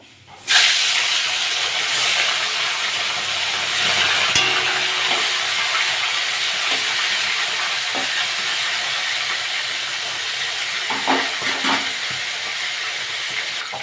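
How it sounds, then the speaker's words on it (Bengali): Fish pieces dropped into hot mustard oil set off an abrupt, loud sizzle that holds as a dense, even hiss for the rest of the clip, with a few faint crackles and taps near the end. "তেলটা গরম হয়ে গেছে, মাছগুলো ভেজে নেব।"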